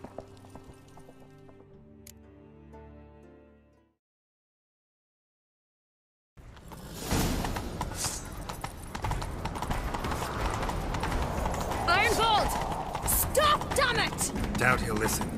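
A horse gallops in The Witcher 3 after a brief silence, its rapid, rhythmic hoofbeats loud and steady alongside game music and effects.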